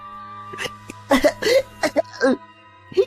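Someone coughs repeatedly and gasps for breath in short, strained bursts, close up, over a low steady hum.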